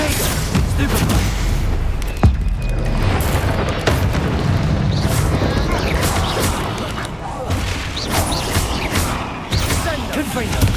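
Explosive Confringo and Bombarda spells cast in Hogwarts Legacy during a dragon egg mission, producing dense, loud rumbling blasts and booms one after another, with a voice calling out over the continuous battle din.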